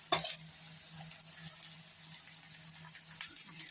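Chili hits a hot pan and sizzles faintly while being stirred. A brief louder clatter comes at the start, then a low, steady sizzle continues with light scraping.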